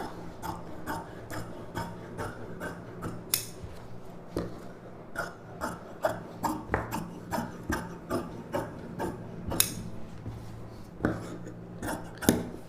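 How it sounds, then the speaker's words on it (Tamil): Scissors cut silk saree fabric for a puff-sleeve blouse, making a close, regular series of crisp snips with short gaps and no talk. "இந்த அளவு அப்படியே ஸ்ட்ரைட்டாக கட் பண்ணிக்கலாம்"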